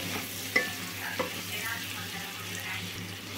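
Baby potatoes dusted with chilli powder frying in a pan, stirred with a couple of soft scrapes over a low, steady sizzle.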